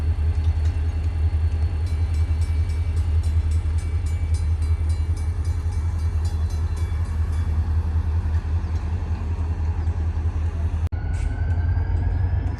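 A Norfolk & Western locomotive pulls its train past at close range, a loud steady rumble of engine and rolling cars with rhythmic wheel clatter that runs unbroken until a sharp break near the end.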